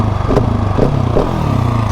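Supermoto motorcycle engine while riding, a loud, close, steady throbbing drone with a fast pulsing rhythm and a few small surges.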